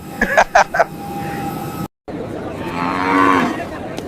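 A cow gives one long, loud, drawn-out moo close by after a few short sounds at the start, over constant background noise.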